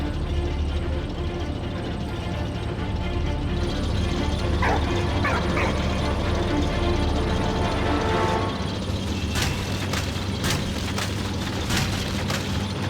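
A dog named Walt in the game Valiant Hearts barks and yips repeatedly, several sharp barks in a cluster midway, against a constant rumbling wartime background with dull booms.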